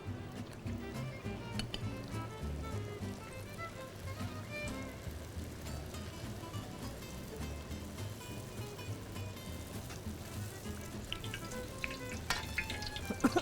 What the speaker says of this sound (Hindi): सहरी में सिर्फ आप पूरियों को फ्राई करें